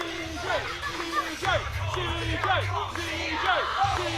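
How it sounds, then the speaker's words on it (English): A wrestling crowd at a Clash event in Boreham Wood cheering for local boy CJ Carter, with rising whoops, yells and a chanting hubbub that swells and dips across the clip. "You can hear the crowd showing their love for CJ Carter"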